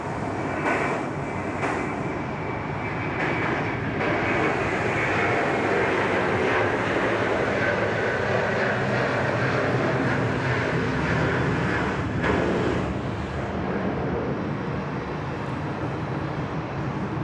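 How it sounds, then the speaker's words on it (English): An Airbus A330 airliner takes off at Sydney Airport, its jet engines producing a loud, steady, broadband roar that holds for the full duration without voices. "It's always nice to watch the A330s go. Always make a fair bit of noise"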